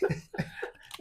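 Person with a cough giving a quick pair of short, close coughs, the second trailing into a brief voiced sound, all within about a second.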